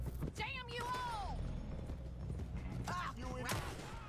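Horses in the video game Red Dead Redemption 2 gallop and clip-clop amid chaotic gunfight action, with whinnying cries rising over the pounding hoofbeats and a voice speaking in the mix.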